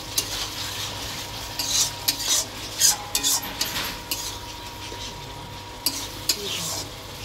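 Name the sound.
water added to sizzling fish curry masala being stirred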